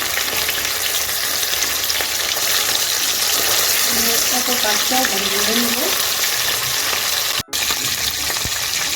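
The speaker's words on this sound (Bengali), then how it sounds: "মাছ ভাজার সময় একটু ফাটে" Pabda fish fry in hot oil, giving a loud, constant sizzle with sharp spattering pops throughout, broken by one brief cut near the end.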